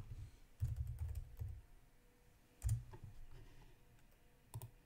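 Someone types on a computer keyboard while setting up a Selenium C# test project, with quiet scattered key taps broken by a few louder bursts of clicks and no talking.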